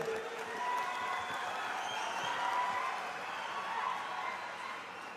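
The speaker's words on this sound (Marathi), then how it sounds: "टाळ्या वाजवा जरा" Outdoor crowd applause at a public statue unveiling, a continuous soft patter of many hands clapping at a distance for a few seconds.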